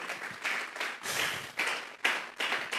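A church congregation claps hands in a rhythmic burst of applause, steady repeated claps rising and falling in loudness, with no talking over them.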